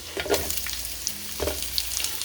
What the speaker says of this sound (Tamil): நெக்ஸ்ட்டு ஆனியன் சேர்த்துக்கிறேன்.